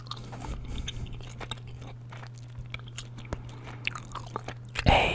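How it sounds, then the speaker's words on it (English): Watermelon gum is chewed close up with soft wet smacks and crunchy bites in an irregular rhythm over a steady low hum, then a louder burst at the end. "Delicious watermelon gum."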